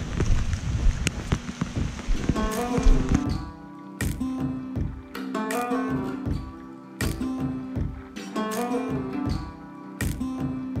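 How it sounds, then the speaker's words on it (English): Rain falling steadily outdoors on a farm, a continuous soft patter that carries on throughout, with no talking. "the rain decided to pick up again."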